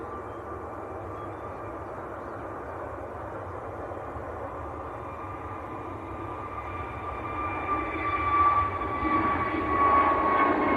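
An easyJet Airbus A320neo rolls for takeoff at Manchester Airport, a steady broadband engine roar with a tonal whine that swells louder toward the end, heard from a distance with no voices.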